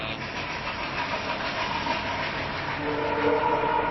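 A passing train rumbles steadily nearby, and toward the end its horn sounds in a sustained tonal blast over the noise.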